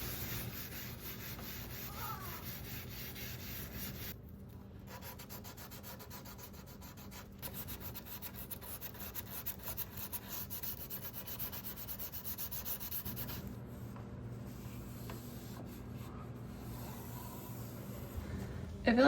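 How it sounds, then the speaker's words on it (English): Scuff sanding a mahogany end table top by hand, a steady broadband rubbing hiss that runs close and continuous with brief pauses, and faint voice in the background. "I will come in to scuff sand it before adding the gel stain"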